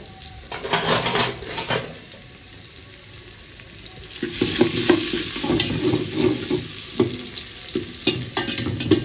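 Chopped onion sizzles and crackles in hot oil with bay leaves while a utensil stirs it in a pot, with scraping and clinking, for a simple khichuri in a hostel kitchen; the frying grows louder and busier midway.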